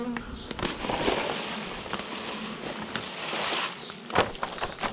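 Leftover honeybees buzz as a plastic foil over a hive box is tilted back and forth, a dense busy hum broken by crinkling and rattling bursts, with faint talk underneath.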